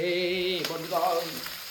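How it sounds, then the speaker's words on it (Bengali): Loud, close sizzling and spitting as pabda fish drop into very hot oil, with a steady frying crackle throughout. "একদম গরম গরম তেলে চলে গেল মাছ"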